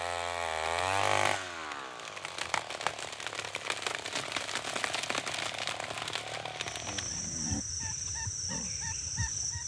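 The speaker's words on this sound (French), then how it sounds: "à l'aide de scies à moteur, on s'attaquera aux plus gros arbres" Chainsaws roar steadily while felling large trees in the Amazon rainforest, a loud continuous engine whine with revving surges, after a brief low rumble at the start and with faint bird calls mixed in toward the end.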